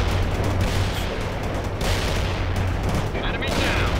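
Gunfire and a TOW missile launch from a Bradley in the real-time strategy game World in Conflict, a dense continuous barrage of bursts and booms with a steady low rumble, loud and unbroken throughout.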